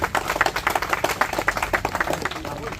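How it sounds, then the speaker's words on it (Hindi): A crowd at an Ek Ped Maa Ke Naam tree-planting event in Katni applauds the SP with steady, dense clapping that holds at an even level throughout, with voices mixed in underneath. "एक बार जोरदार ताली हो जाए एसपी साहब के नाम पे"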